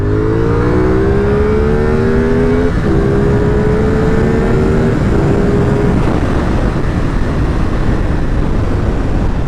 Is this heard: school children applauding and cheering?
no